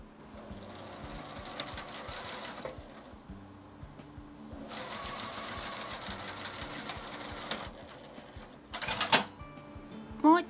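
Domestic sewing machine stitching a kimono seam for a doll with a 1.5 cm seam allowance, running in two long steady whirring passes separated by a quiet pause, with a few louder clicks near the end; no talking.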